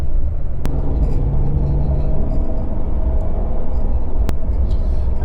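A coach bus idles at a stop before departing, giving off a steady low engine rumble with two sharp clicks.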